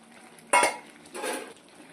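Potatoes tipped into a pot of chicken frying in oil for tamarind chicken, giving two short bursts of clattering and sizzling, a sharp loud one followed by a softer, longer scrape about half a second later.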